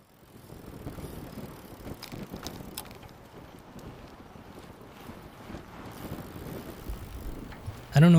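Homemade longtail bicycle with TIG-welded brake bosses on a test ride, heard as steady wind rush and rolling road noise against the microphone, ending in a sudden loud bump.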